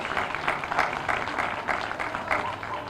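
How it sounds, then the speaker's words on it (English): A crowd at an evening beach memorial gathering claps in a round of applause, loose and irregular, close and fairly loud, with a few scattered voices mixed in. "Can we get a round of applause for everybody that came out tonight?"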